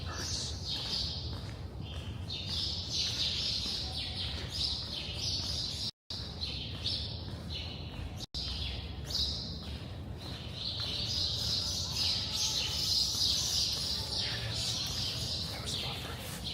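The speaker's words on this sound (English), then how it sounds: "Quiet down to get birds." Birds chirp and tweet steadily along a Manhattan street on a winter commute, bright calls layered over constant city hum, passing traffic and footsteps, fairly close and lively throughout.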